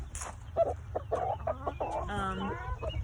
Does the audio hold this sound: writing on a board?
no